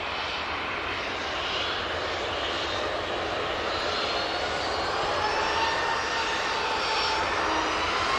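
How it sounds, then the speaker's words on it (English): Steady, fairly faint roar of a C-27J military transport aircraft at Manchester Airport, a broad continuous drone with a slowly shifting tone and no voices. "the C27J is also is always incredible"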